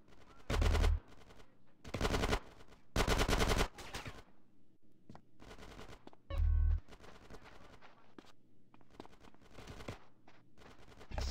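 Automatic gunfire in the video game Grand Theft Auto: San Andreas, several loud bursts of rapid shots separated by quieter gaps, with lighter scattered pops between them.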